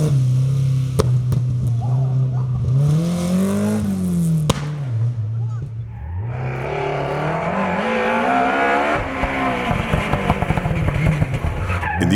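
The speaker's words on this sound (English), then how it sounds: "Fourth in TERH, the Ford Escort RS of Swiss Cretegny." A Ford Escort RS historic rally car on a stage of the Rally International du Valais in Switzerland, its engine droning loud and close, then rising in pitch with tyre scrabble as it drives through the course.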